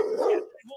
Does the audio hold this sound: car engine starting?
no